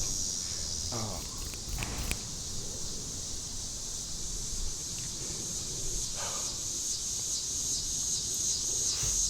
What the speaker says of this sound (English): you cicadas, shut the fuck up